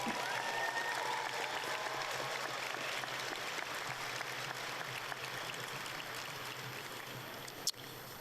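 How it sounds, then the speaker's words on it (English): Steady applause from a large crowd at a high school graduation ceremony fills the whole stretch, a dense wash of clapping that holds level from start to finish. "Let's give both our band and choir another big round of applause."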